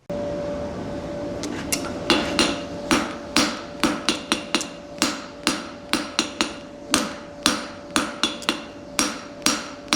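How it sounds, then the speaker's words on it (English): Sharp, ringing hammer blows on hot steel as a blacksmith forges out a pritchel on an anvil, starting sparse and settling into a steady rhythm of roughly two strikes a second over a faint fan hum. "I just forge it out."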